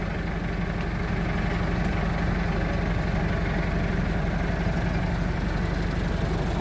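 A cold tractor engine idles steadily up close, giving a low, rhythmic diesel chug that stays even throughout with no voices.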